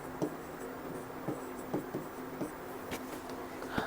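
Pen or chalk writing out weekday names while a question is worked through, giving quiet scratchy strokes in an irregular rhythm of short taps and scrapes, close by, with no talking.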